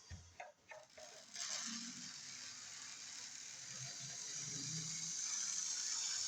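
A Lima DRS class 37 model locomotive runs, with a few quiet clicks at first, then a faint, steady high-pitched motor whine that slowly grows, soft and close.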